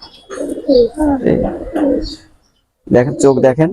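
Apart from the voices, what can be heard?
pigeon cooing, Aliwala 35 high-flying pigeon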